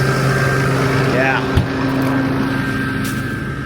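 A tractor's engine drones steadily from inside the cab during corn planting, a continuous low hum with a brief knock partway through.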